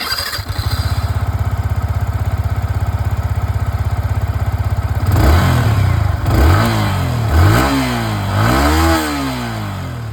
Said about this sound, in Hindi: XSR 155 की जो आवाज़ है वो आप लोगों ने सुन लिया